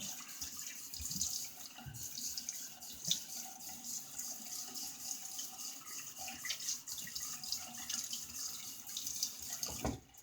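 Water runs steadily from a tap into a sink while a razor is rinsed after a wet shave with a Shield Stomper razor, a continuous close splashing stream with no talk.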